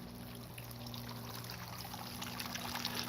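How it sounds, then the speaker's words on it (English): Running water trickles and pours steadily from a garden bird bath water feature, a faint, continuous splashing over a low steady hum, with no talk. "I thought I'd just show you the bird bath water feature running."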